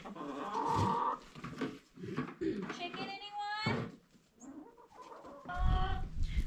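Chickens cluck on and off at a farm during goat re-vaccination day, mixed with other barnyard noise and nearby voices, with a clear high-pitched harmonic squawk midway.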